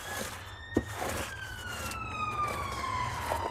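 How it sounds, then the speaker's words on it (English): An ambulance siren wails in the distance, its tone sliding steadily downward as it passes, over a low background rumble with a faint knock early on. "Sounds like another ambulance going by."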